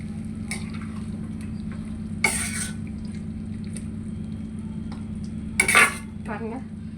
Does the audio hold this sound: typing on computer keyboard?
no